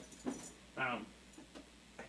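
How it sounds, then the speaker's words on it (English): A dog whimpers for attention, a couple of short high whines and a longer wavering whine, faint and close against a quiet room, with brief murmurs around it. "Dog wants attention."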